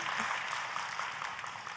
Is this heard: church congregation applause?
yes